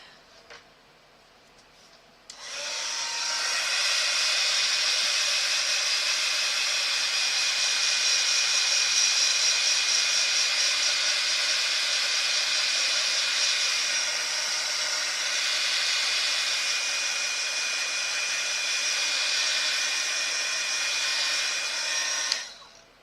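A hair dryer blowing on a decorated journal page sprayed with Distress Spritzer, a steady loud whooshing hiss that switches on after a couple of seconds and runs unbroken for about twenty seconds before cutting off.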